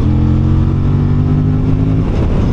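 A 2024 Aprilia RS 457 sport motorcycle engine pulls hard in fourth gear from low revs, a loud steady drone with rising harmonics that holds close and constant before easing slightly near the end.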